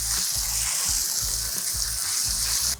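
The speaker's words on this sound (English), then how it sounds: "We're going to let this saute for about a minute or two." Onions, celery and Scotch bonnet pepper sautéing in oil for a Caribbean one-pot ochro rice: a dense, bright sizzle that holds steady and close, with a low rhythmic pulsing underneath, no speech.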